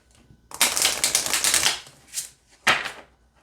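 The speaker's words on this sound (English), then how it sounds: "let's shuffle this deck and see how it feels." A new tarot or oracle card deck is riffle-shuffled up close, a long fluttering burst of snapping cards, then a short bridge and one more quick riffle.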